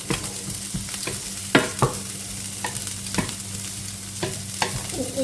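Vegetables and peas for a risotto fry in a pan with a steady sizzle, while a spoon stirs and scrapes in repeated sharp knocks, close and clear, with no talking.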